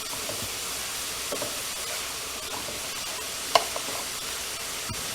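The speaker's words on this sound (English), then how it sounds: "Just stir it around, and you'll see it turn a little bit of a different color in a second." Pork and risotto ingredients are stirred and browned in a pan, giving a steady soft sizzle and hiss with faint scraping and one sharp knock of the utensil partway through.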